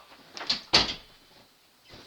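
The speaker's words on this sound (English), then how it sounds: "Hey, close your door. Close your door." A door shuts with a sharp thud and rattle, preceded by a couple of lighter clicks, followed by near quiet in an indoor room.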